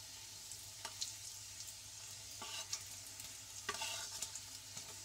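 Namkeen made from flour frying in a little oil over a medium flame as it is turned and stirred, a steady soft sizzle with light scraping clinks of the stirring spoon at intervals, no talk.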